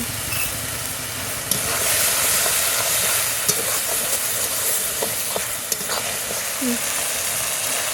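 Onion, garlic and ginger paste frying in a pan for an egg and green jackfruit curry. A constant sizzle sits under scraping stirs and occasional sharp clicks, loud and close.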